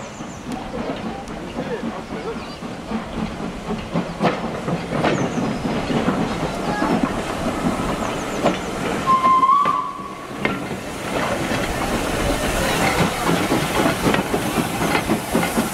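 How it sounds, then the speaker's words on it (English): A train pulls in at a heritage railway gala, with broadband rumble, hiss and rail clatter building throughout, a brief whistle-like tone midway, and voices faintly mixed in. "train's coming!"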